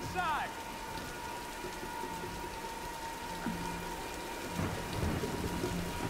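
Steady rain and thunderstorm in the Tomb Raider video game, a continuous hiss of downpour with low rumbles of thunder rolling in the background and a brief chirping bird-like call near the start.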